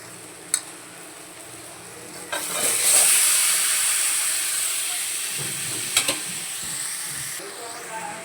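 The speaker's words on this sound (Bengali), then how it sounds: "এবারে ডিম আর আলু পটল যেটা ভেজে রেখেছি সেটা এর মধ্যে দিয়ে কষাবো" Fried egg, potato and pointed gourd go into a pan of cooked masala, setting off a loud hissing sizzle that swells and then slowly fades, with a few sharp knocks of a utensil against the pan.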